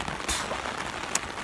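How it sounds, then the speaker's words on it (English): Steady rain falls in an outdoor setting at a Vipassana meditation retreat, a dense, even patter with a couple of sharper drop hits, close and moderately loud with no talking. "showers started turning into rain"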